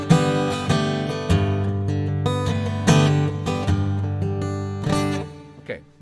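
Acoustic guitar played through a piezo pickup into a Fractal unit with its tone match filter applied, sounding as a run of picked and strummed chords with clear attacks, a warmer fuller body and a final fading chord.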